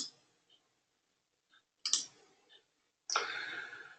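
A computer mouse clicks during a software demonstration: a few soft isolated clicks, then two sharper louder bursts close to the mic, with quiet gaps between.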